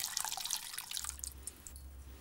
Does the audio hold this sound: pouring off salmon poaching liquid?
yes